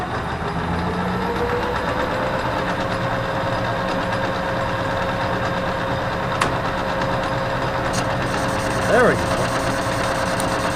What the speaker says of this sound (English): we're over here at the Logan Lathe, and we're gonna do some cutting here